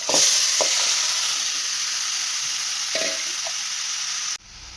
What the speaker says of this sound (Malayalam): തക്കാളി ഒന്ന് വാടിയ ശേഷം നമുക്കതിൽ ചിക്കൻ മസാല ചേർത്ത് വെച്ചിരിക്കുന്ന ചിക്കൻ ഇട്ട് കൊടുക്കാം